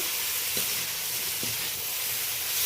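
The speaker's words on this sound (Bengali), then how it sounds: "হলুদ দিয়ে দিলাম, লবণ দিলাম, ভালো করে নাড়াচাড়া করে নেব।" Greens frying with turmeric and salt in a pan give off a soft, continuous hiss, with a couple of faint stirring knocks heard close up.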